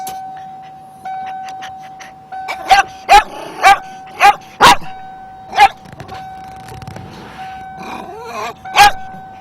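A dog barks in a series of sharp, loud, evenly spaced barks near the microphone, about ten in all, over a steady low hum, with faint voices in the background.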